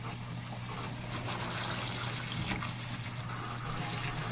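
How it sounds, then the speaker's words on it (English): Water from the tap runs into a bath in a steady, low trickling gush, continuous and fairly faint, with no voices. "after you turn off that water"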